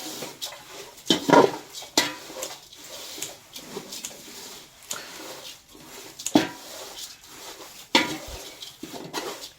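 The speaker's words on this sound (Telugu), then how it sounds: "ఇట్లా కొన్ని కొన్ని వేస్తూ వేయించుకోవాలి, లేకుంటే మాడిపోతాయి. ఊకే కలపాలి." Poha being fried and stirred in a pan, with scattered scraping and clinking of a spoon against metal and irregular loud knocks over a steady sizzling hiss.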